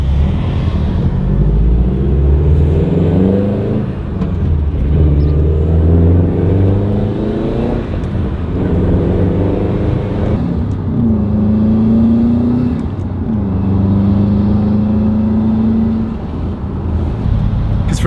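Swapped six-speed Subaru Bugeye WRX driving, its engine note rising and falling through steady revs and gear changes, loud and close from inside the car, alone without talk.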